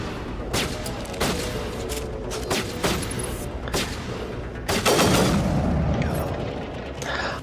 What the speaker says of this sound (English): Don't love the burst fire because I feel like I'm wasting shots 2 and 3